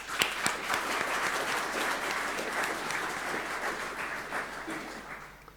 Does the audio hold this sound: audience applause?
yes